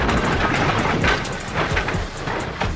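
A steam locomotive that has come off the rails grinds and rattles over loose stones, a continuous rough clatter with irregular knocks, loud and close, with no voices.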